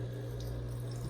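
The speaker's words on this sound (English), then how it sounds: "I'm gonna turn on the hot water" Hot water running from a Breville Barista Pro espresso machine, a steady, faint stream with a constant low machine hum underneath.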